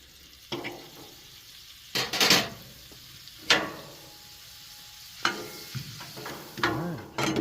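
Butter sizzling on a heated griddle before French toast pancake batter goes down, soft crackle under intermittent louder bursts of scraping and stirring clatter, close and fairly quiet overall.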